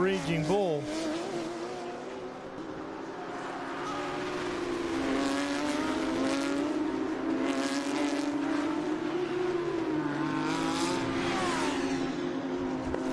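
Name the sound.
race cars including Porsche and Audi on track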